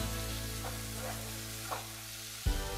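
Masala of coriander powder, cumin powder and green chili paste cooking in a pan, giving a steady, even sizzle throughout with a few soft stirring scrapes and a brief louder clatter near the end.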